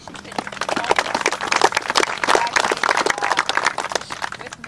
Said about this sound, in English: So I think you should give yourselves a round of applause now.